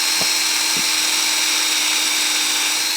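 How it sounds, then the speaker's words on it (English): A power drill boring an upward-angled tap hole into a maple tree's sapwood, giving a loud, steady, high-pitched whine that holds constant from start to finish with a few faint low knocks. "we want to drill it on an upward angle because we don't want the sap to freeze in there overnight"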